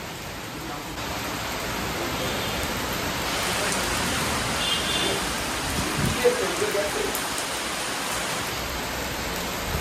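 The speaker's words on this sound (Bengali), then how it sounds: "বৃষ্টির ফোঁটাগুলো অনেক বড় বড় পড়ছে" Heavy rain with big drops pours down in a storm under thick clouds, a dense, steady hiss of drops hitting surfaces nearby that swells slightly midway, with faint voices in the background.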